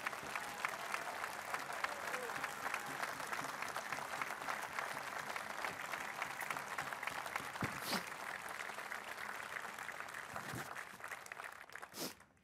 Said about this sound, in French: Mesdames et messieurs, je vous demande d'applaudir comme il le mérite Monsieur Max Roustan